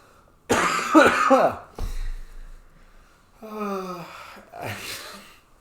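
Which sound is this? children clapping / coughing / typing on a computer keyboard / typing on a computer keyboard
coughing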